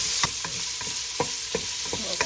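Lomi ingredients seasoned with pepper and garlic powder stir-fry in a pan, a constant sizzling hiss broken by regular sharp clinks of a utensil against the pan, close and fairly quiet.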